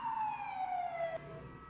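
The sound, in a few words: police sirens in the distance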